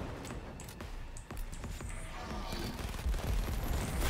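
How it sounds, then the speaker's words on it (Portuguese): Gunfire in the video game Cyberpunk 2077: Phantom Liberty, a dense, continuous barrage of rapid shots and bursts with heavy low booms building toward the end, loud and busy throughout. "Foi tiro, porrada e bomba"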